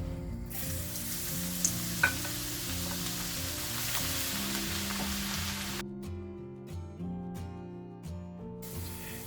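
Thin-sliced garlic fries in hot oil until golden and crispy, a loud, continuous sizzle with a few brief pops and stirring clatters, dropping to a quieter bubbling hiss later on.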